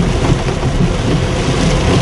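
Heavy rain pours down during a sudden downpour over Metro Manila streets, a dense, loud, unbroken hiss and rumble across the whole stretch with no pauses and no voices.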